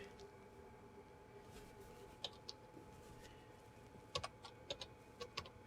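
Keys clatter on the keyboard of an EarthLink MailStation 350, an email device about twenty years old, as a date and time are entered. Sparse, faint clicks sound over a quiet hum, ending in a short cluster of taps.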